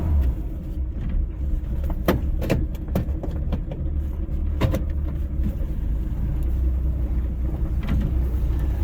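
A 1960 Rambler American's engine rumbling steadily from inside the car while driving, with occasional rattles and clicks over the drone.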